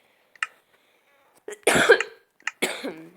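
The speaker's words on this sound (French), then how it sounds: "Excusez-moi si je tousse parce que je suis malade" A sick person coughs close by: one short cough, then a heavier burst of coughing and a final cough, separated by quiet.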